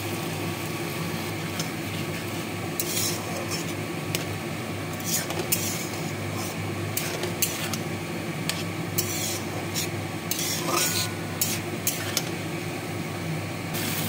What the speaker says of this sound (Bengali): এবার মশলাটা দিয়ে আমি কষিয়ে নেব। একটু জল দিয়েছি।